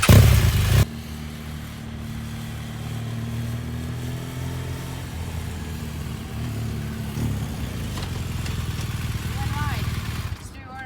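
A motorcycle is ridden through a corner, its engine giving a steady mid-pitched drone close by for the whole stretch and swelling slightly toward the end, with rushing wind noise underneath.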